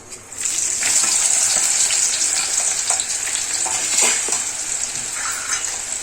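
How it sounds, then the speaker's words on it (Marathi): Onion drops into hot oil already holding cumin and mustard seeds, bursting into a loud, bright, continuous sizzle up close, with crackles and occasional stirring scrapes. "त्यानंतर आपण थोडा जो कांदा ठेवलेला होता तो कांदा टाकायचा."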